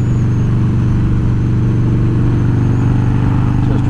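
A Harley-Davidson Twin Cam Dyna with new cams and a ThunderMax tuner pulls away under throttle, its V-twin thumping loud and close in a steady, throbbing rumble that holds and rises slightly.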